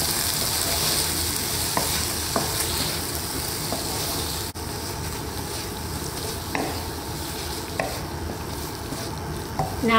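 Tomatoes and whisked yogurt being stirred in a hot pan for a Bengali potato curry, giving a steady loud sizzle with occasional scraping clicks from the spoon throughout, no talking.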